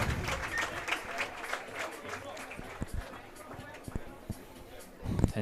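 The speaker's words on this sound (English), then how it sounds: "we hear the round of applause for the man who's leaving the field." Scattered applause from a crowd at a high school rugby match, rising and fading as a player leaves the field, with murmuring and background chatter throughout and a brief louder burst near the end.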